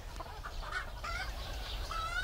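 Hens cluck in a short, busy burst of overlapping clucks and calls, fairly close, with a low steady background rumble underneath and no talking.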